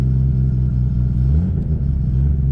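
A 750hp Nissan Skyline R34 engine rumbles low and steady, then rises briefly as the car pulls away in first gear, with no talking.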